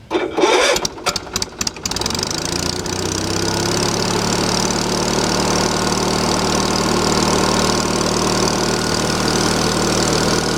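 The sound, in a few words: engine of wood splitter starting and idling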